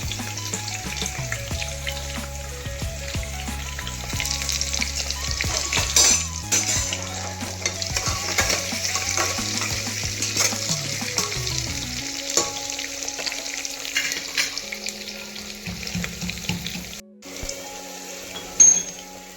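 Sliced onions fry in hot oil for chicken pulao, making a loud continuous sizzle with scattered utensil scrapes and clinks. Faint tonal music plays underneath.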